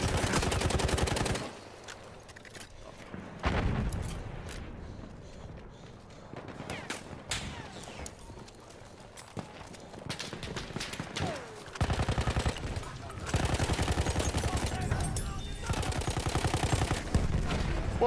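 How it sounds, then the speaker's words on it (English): Dense bursts of rapid gunfire and machine-gun fire in a war video game, loud and sustained with brief lulls, a voice talking faintly in between. "Shooting."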